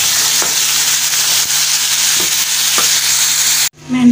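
Tomatoes sizzle loudly in a hot frying pan for a Pakistani-style tomato chutney, a steady broadband hiss with a few stirring scrapes, cutting off abruptly near the end.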